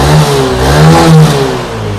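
A Yamaha Aerox SP scooter with a faulty CVT revs up close by, its engine droning and rising in pitch with a slight clattering undertone.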